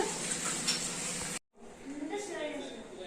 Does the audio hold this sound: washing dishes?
yes